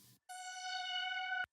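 A sustained synth pad from the second verse of a modern hip hop track swells in after a brief pause and holds a bright, stacked harmonic chord steadily before cutting off abruptly, with no voice over it.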